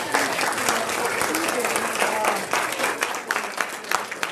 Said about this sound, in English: So give her a round of applause to that.